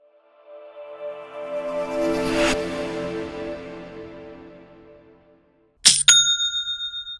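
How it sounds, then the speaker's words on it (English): A bright metallic chime swells and slowly fades, then after a pause a quick high-pitched ding rings out and decays: a Shopify sale notification. "That's the sound of Shopify making me money."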